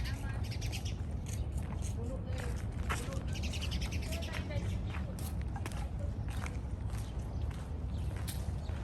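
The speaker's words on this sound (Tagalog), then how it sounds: "Ang daming ibon." Small birds chirp and tweet in short scattered calls outdoors on a morning walk, fairly faint under a steady low background rumble, with footsteps and voices nearby.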